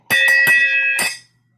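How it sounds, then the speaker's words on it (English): A ship's bell rings in three quick, loud strikes, then a fourth after a short pause, each leaving a bright, sustained ringing tone that fades out alone. "And I have like a ship's bell."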